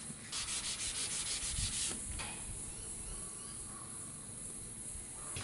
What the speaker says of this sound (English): And I will just go along and sand the very edges here and blend them in to make sure that we don't have a little bit of a ridge.